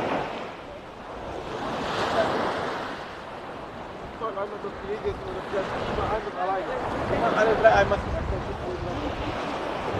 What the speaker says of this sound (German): Und hier mal der Strand.